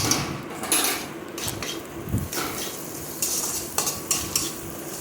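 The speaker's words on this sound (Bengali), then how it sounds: "কিছুক্ষণ কষিয়ে নেব এভাবেই নেড়ে চেড়ে" Soybean curry with egg and potato being stirred and fried in a pan: a spoon scrapes and clinks against the metal in repeated strokes over a steady close sizzle, with no talking.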